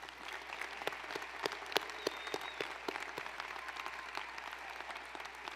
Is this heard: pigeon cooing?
no